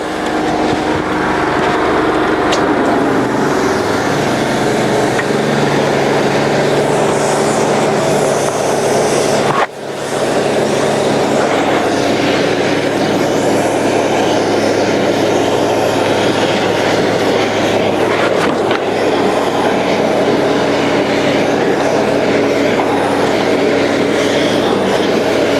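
A cold water jetter engine runs steadily at idle, not revved, while a hose clears a 12-inch pipe, a loud continuous mechanical roar with low hum and rattling, briefly cut once near the middle.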